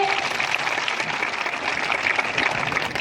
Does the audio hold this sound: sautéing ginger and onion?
no